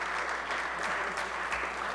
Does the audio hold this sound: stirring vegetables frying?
no